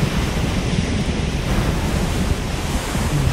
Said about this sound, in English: These waves, yo.